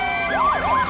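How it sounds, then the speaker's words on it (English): Several wailing sirens overlap, their pitch sweeping up and down in quick cycles, loud and continuous. "Oh, do you hear all those sirens?"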